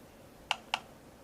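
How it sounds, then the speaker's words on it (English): Two quick, light taps on the touchscreen keyboard of an HTC HD7S phone, spaced about a quarter second apart and heard close up over faint room hiss. "We can keep typing."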